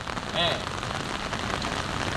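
Steady rain falls on a surface during a crowd gathering outside a factory, a dense continuous patter with a brief higher tone near the start and no clear speech.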